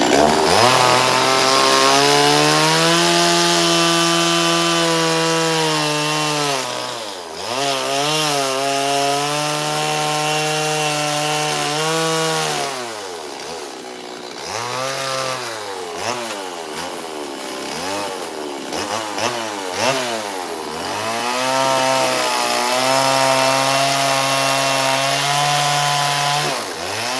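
Chainsaw ripping lengthwise through wood, its engine screaming loud and close with the pitch sagging under load and revving back up several times across a long continuous cut.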